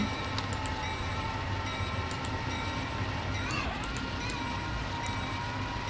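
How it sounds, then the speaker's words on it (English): A toy train runs along its baseplate track with a steady close rumble and some clicking and squeaking of the wheels, and a brief voice is heard over it. "Train."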